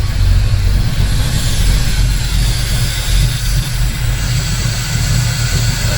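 Holden Torana engine idles a little low, giving a steady, loud, close rumble with an even low drone throughout and no talk.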